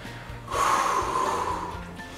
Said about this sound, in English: You can hear me breathing, right?